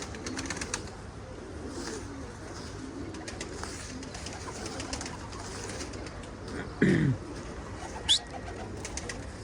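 Iraqi pigeons in a flock flying behind their leader: a soft, distant bed of cooing and light wing flutter, with a couple of brief, sharper flaps or calls near the end.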